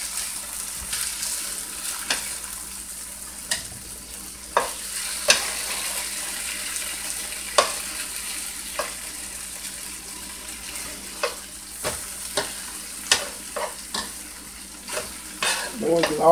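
Beef short ribs fry in a pan with a continuous sizzle, while scattered sharp clicks and scrapes of utensils repeat throughout and nobody speaks.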